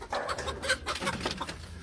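Chickens cluck in a quick, busy run of short notes, close by and fairly loud, with no clear talk over them.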